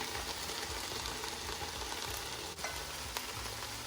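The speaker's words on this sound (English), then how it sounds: "We're gonna add the star of the dish now, the cabbage." Cabbage frying in a hot pan for Jamaican cabbage, a steady close sizzle and crackle with faint stirring scrapes and a couple of brief clinks.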